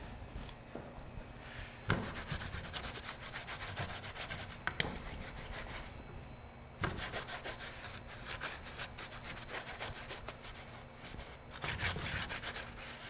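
A pad rubs mold release onto a taxidermy mold in steady back-and-forth strokes, a close, dry scuffing texture that repeats in bursts with brief pauses and no talking.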